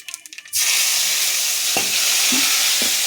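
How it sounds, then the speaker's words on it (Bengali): Nigella seeds and spices hit hot oil with a sudden loud, steady sizzle after a short quiet start, with a few stirring knocks underneath. "একটু কালো জিরে ফোড়ন দিয়ে দিলাম মশলাটা দিয়ে দিলাম দেখো"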